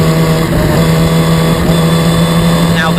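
Historic Formula Ford race cars at Snetterton circuit hold a steady, loud engine drone throughout, with a rising whine of a passing car near the end.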